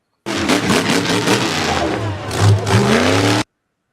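A monster truck engine revs hard and loud from a played-back video, its roaring throttle swells rising and falling continuously for about three seconds before cutting off abruptly.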